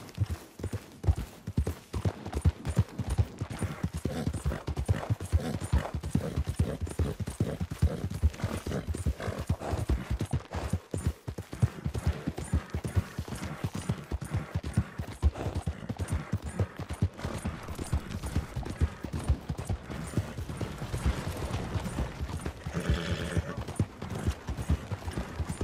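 Horse hooves clip-clopping in Red Dead Redemption 2, a continuous rhythmic trot that stays close and steady, with a brief whinny and other game sounds mixed in.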